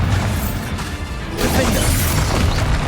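Bombarda blasting spell striking in Hogwarts Legacy, a loud booming crash that swells about midway and holds as a rumbling impact over dense game noise.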